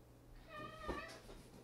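A house cat meows once, a short, soft tonal cry in a quiet room.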